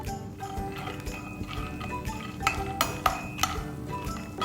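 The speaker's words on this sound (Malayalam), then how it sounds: "നമുക്കതിലേക്ക് 1/4 കപ്പ് കടല ചേർത്ത് നല്ല പോലെ ഒന്ന് ഗോൾഡൻ കളറിൽ വറുത്തെടുക്കാം." A quarter cup of peanuts roasting in hot oil for lemon rice, stirred with a metal spoon in a pan: soft sizzle under irregular clinks and scrapes that sharpen into several distinct knocks toward the end.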